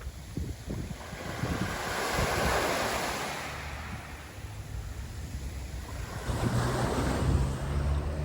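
Waves washing onto the beach at Mojácar Playa, a soft rushing surf that swells and recedes twice, with gusty wind noise against the microphone.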